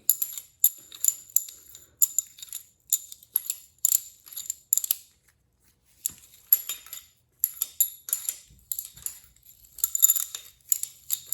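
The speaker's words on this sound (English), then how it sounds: "There's some ASMR for you, pushrod removal." Pushrods are pulled one after another from a Ford 302 tunnel port engine, making quick, crisp metallic clicking and rattling in close bursts with short pauses, with no talking.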